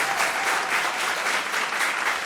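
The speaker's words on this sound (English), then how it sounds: "A round of applause for them, please" Loud, dense applause from the audience at a school quiz contest, greeting a competing team with continuous close clapping that holds steady for the whole short stretch.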